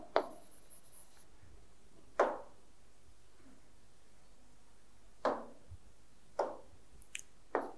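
Marker or chalk strokes writing the common factors of 12 and 18 on a board during a Class 6 maths lesson: five short scratchy bursts spaced a second or more apart, quiet and near, with no talking.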